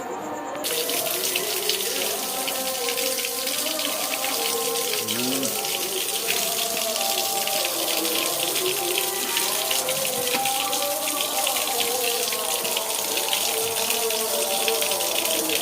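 Tap water runs steadily and loudly from a faucet into a tank during a snake rescue, a constant splashing rush that starts abruptly and continues throughout, with faint voices underneath.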